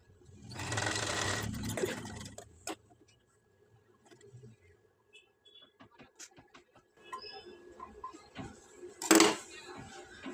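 Sewing machine stitching blouse piping in short bursts, with a run of steady whirring at the start, then quieter sporadic clicks and fabric handling, and someone talking at times.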